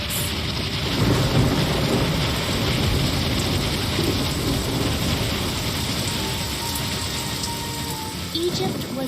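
A hailstorm with thunder and rain: a dense, steady roar of pouring rain and hail under deep rumbling thunder, loud and unbroken throughout.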